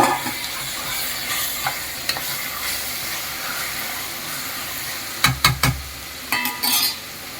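Mutton pieces fry with golden brown onions in a pan, a steady close sizzle and hiss broken by several sharp clinks and scrapes of a stirring spoon near the end.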